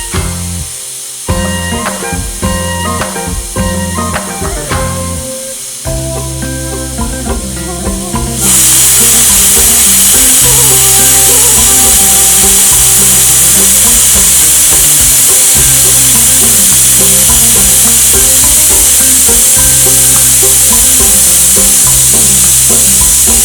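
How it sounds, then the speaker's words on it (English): A pressure cooker of spinach chana dal lets off its steam whistle, a loud, sustained hiss bursting in after some background music and holding steadily to the end. "when it's ready, it's going to release the steam, or what we call the whistle, like this."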